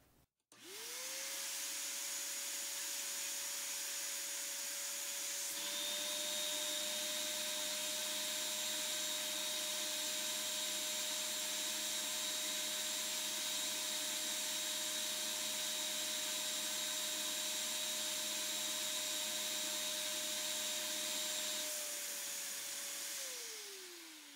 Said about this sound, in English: then you put the vinyl vac in action. Makes a little noise.